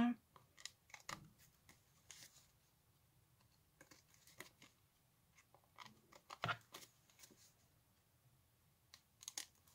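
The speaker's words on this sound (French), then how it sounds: "je vais recouper ce qui dépasse" Scissors snip away excess card paper while making a handmade greeting card, giving short crisp cuts and clicks in an irregular rhythm, close and fairly quiet against a calm room.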